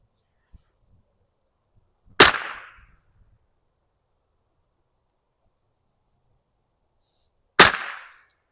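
Two sharp, isolated cracks of a .22 LR rifle firing subsonic rounds at targets outdoors, spaced several seconds apart, each with a short decaying tail and quiet in between.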